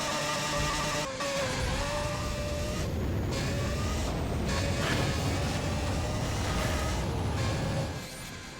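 A Ferrari FXXK-Evo or Mazda 787B race car engine in Need for Speed: World roars loudly and steadily, revving hard with a few brief dips, then easing off at the end.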